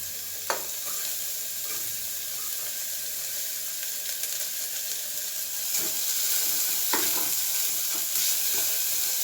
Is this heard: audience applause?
no